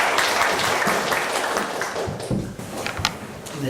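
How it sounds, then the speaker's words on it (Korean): Audience applause at an international conference on Japanese forced-labor issues greets a lawyer arriving to speak, a dense, steady wash of many hands clapping at moderate level for several seconds. "힘찬 박수로 맞아주십시오"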